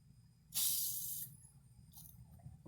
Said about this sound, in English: I'm going to spray a little bit of penetrating fluid